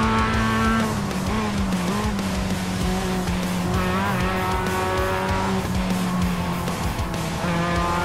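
Mazda race car in the iRacing sim racing game, a loud, close, continuous engine note rising and falling through gear shifts, with tire squeal mixed in and no talk.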